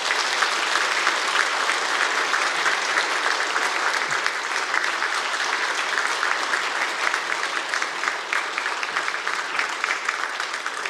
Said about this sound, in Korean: 여러분 뜨겁게 박수로 격려해 주시기 바랍니다.